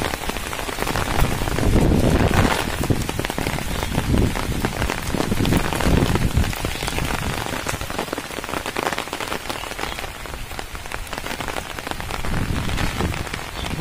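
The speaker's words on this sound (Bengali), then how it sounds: "প্রচুর পরিমাণে বৃষ্টি হচ্ছে," Heavy rain falls in the Bengal countryside over flooded fields, a loud, continuous, dense pattering with surges in intensity and no voices.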